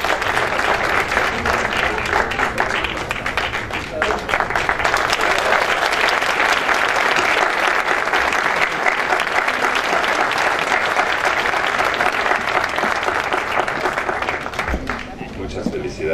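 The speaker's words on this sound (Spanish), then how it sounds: "Un aplauso muy fuerte de nuevo para ti." A large audience applauds an award winner at an environmental cooperation prize ceremony, dense steady clapping sustained for about fifteen seconds before thinning at the end, with faint voices mixed in.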